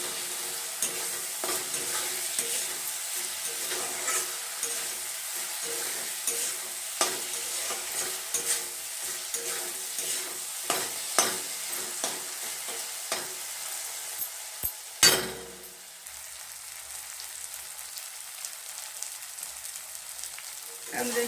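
Egg and eggplant masala frying in oil in a pan, a steady close sizzle broken by repeated scraping stirs and one sharp knock partway through, with no voices.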